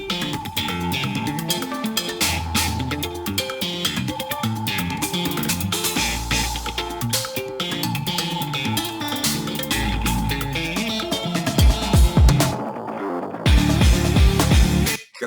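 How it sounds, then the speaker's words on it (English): A dry, unreverberant drum set in a song plays over dense guitar and bass. The kick and snare hits stay tight and close, and the sound drops out briefly near the end before returning. "The drums sound the same again. Bone dry."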